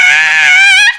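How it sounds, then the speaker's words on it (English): A single person screams in one loud, sustained, high-pitched shriek lasting about a second, which then cuts off abruptly into silence. "Sometimes you just gotta scream."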